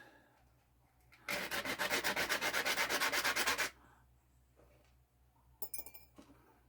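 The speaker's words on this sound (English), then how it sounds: "I've got some sandpaper here that I'll do a light scratching with" Sandpaper lightly scratches tree seeds in a quick, rhythmic burst of close rasping strokes lasting a couple of seconds, followed by quiet and a short clink near the end.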